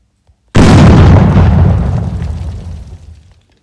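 A video game explosion: a single sudden, loud boom that hits hard and then rumbles and fades over about three seconds, heard alone without talking.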